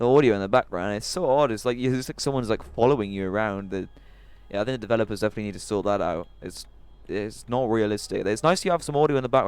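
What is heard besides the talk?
No everyday noises stand out.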